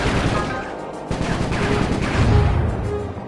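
Video game gunfire from Sly Cooper 3: Honor Among Thieves, a dense rattling burst of shots mixed with game sound effects, steady and fairly loud for a few seconds.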